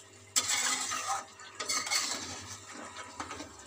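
Capsicum being stirred into a pan of chicken korma in a home kitchen, with a spoon scraping and clinking against the pan in irregular bursts, close and moderately loud with no talk.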